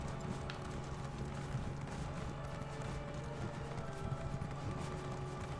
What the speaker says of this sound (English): Raisin's is a good horse.